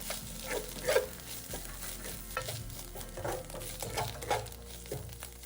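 Preserved mustard greens stir-fried in a wok, a steady hiss of frying with rhythmic scraping strokes of the spatula at close range, no voices.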